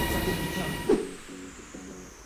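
A Regiojet express train in Poland rumbles at a Warsaw station, a low mechanical roar with a brief squeal and clunk, then a quieter steady hum.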